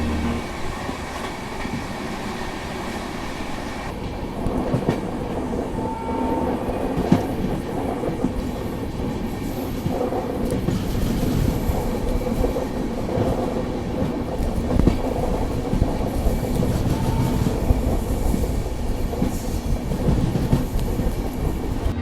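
The Ajmer Shatabdi Express runs along the track at up to 110 km/h, a loud continuous rumble with rhythmic wheel clatter and occasional faint squeals throughout.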